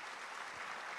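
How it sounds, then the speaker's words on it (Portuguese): A church congregation claps in a brief, dense burst of applause that fills the whole second at steady strength, with no voices over it. "dê um aplauso ao Senhor Jesus."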